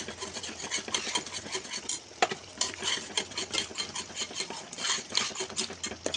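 A spoon stirs a paneer curry base with yogurt, chili powder, salt, turmeric and coriander powder in a pan, giving a steady scraping, swishing rasp with light metallic clinks throughout.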